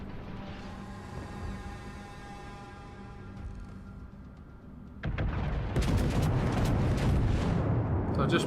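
Main guns of the Japanese battleship Kongo firing in the naval game World of Warships: a steady engine drone gives way to a sudden loud, rumbling salvo whose booms and splashes continue to the end.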